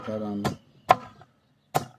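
A fresh coconut is being cut up outdoors in the bushes to make homemade coconut oil: three sharp, close chops with pauses between them, after a brief voice-like tone at the start.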